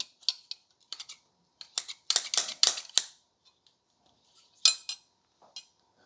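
Stainless steel scissors from a 14-piece knife block set being handled, giving sharp metallic clicks and snips in scattered bursts, close and fairly quiet with no talk.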